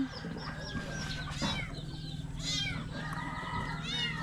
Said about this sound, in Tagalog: Ayan na pala yung pusa.